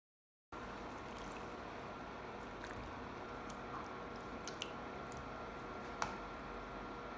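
Boiled orange peels squeezed and rubbed by hand in a bowl of cold water, giving a steady wet sloshing and squishing close up, with a few soft splashes and drips and no talking.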